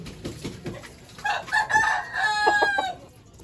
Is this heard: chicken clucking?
yes